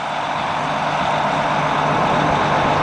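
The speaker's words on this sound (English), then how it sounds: "The vehicle is powered by the Detroit Series 60 turbo diesel. It's a four-stroke engine." A 1995 MCI 102-D3 bus with a Detroit Series 60 four-stroke turbo diesel runs steadily, a loud, close, even engine drone with a low hum underneath and no talk.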